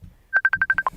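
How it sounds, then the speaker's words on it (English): A phone going off with an incoming call during a livestream: a quick run of seven short, evenly spaced electronic tones ending on a slightly lower eighth, loud and clear over a faint background with no talk. "Getting a phone call from my sister."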